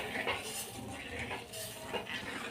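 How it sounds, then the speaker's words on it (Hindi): A spoon stirs sweet-and-sour chutney as it cooks in a pan, giving continuous soft scraping and light metallic clinks against the pan with a faint sizzle underneath, at a steady moderate level. "यहाँ पे थोड़ी देर तक आपने इस चटनी को पकाना है। इस तरीके से अच्छे से हिलाई जाना है साथ साथ।"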